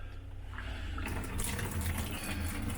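Water mixed with pink RV antifreeze runs from a shower faucet while a camper is winterized, a quiet trickle that swells into a steadier, brighter splashing flow after about a second.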